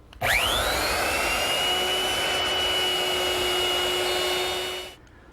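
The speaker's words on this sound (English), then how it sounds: "I'm turning to my router, which is equipped with a 1/4-inch rounding over bit." A router fitted with a quarter-inch round-over bit eases the edges of wooden garden gate parts. Its motor whines up to speed, runs at a steady, loud, even pitch for about four and a half seconds, then cuts off.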